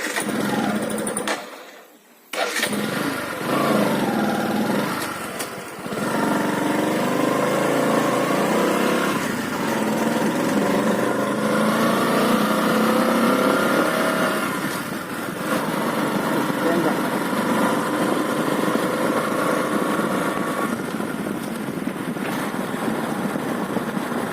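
A motorbike engine hums steadily as two riders travel through dense forest, a continuous close drone with brief dips and wind buffeting, and a voice talks over it at times.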